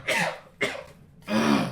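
Three short, close coughs in quick succession, the last longer and throatier, in a quiet indoor setting.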